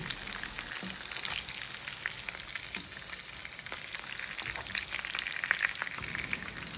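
Pork frying in a pan until golden brown, a continuous close sizzle with fine crackles and pops and occasional stirring scrapes, steady throughout with no voices.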